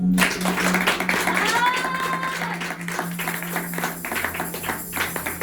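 Church congregation applauding and cheering, a steady wash of close clapping with crowd voices and a sustained musical tone underneath.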